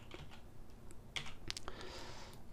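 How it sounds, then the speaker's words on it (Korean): Someone presses keys on a computer keyboard while working in 3ds Max. A few sharp clicks come close and fairly quiet over a soft room hiss. "키보드에 Z키를 눌러주시면요, 이렇게 화면 정리가 됩니다."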